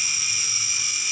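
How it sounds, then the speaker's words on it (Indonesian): Handheld grinder cutting a metal part for the oil pump gear of a Honda Revo motorcycle, a steady high-pitched whine held at constant speed, loud and close with no talking. "Kita potong dengan gerinda seperti ini"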